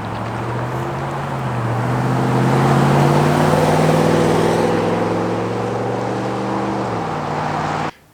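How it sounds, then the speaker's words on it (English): Deep, throaty rumble of a Toyota 4Runner V8 engine through an aftermarket Gibson exhaust, loud and close, rising in pitch as it revs, then settling before cutting off abruptly. "It sounds like a V8 now,"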